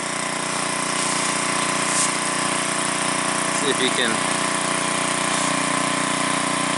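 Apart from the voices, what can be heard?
engine-driven trash pump running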